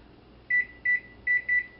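A kitchen microwave timer being set, four short high electronic beeps in an uneven rhythm, clear and close over a faint steady background hum.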